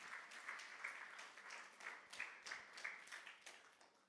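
A church congregation claps during a sermon, faint and distant, with scattered uneven claps over a few seconds.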